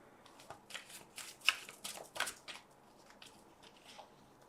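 Tarot cards are shuffled close by in quick, papery riffling bursts for a few seconds, soft and alone.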